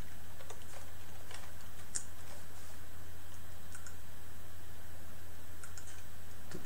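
Typing on an unfamiliar computer keyboard: scattered irregular key clicks and taps, fairly close, over a steady low hum, with no talking.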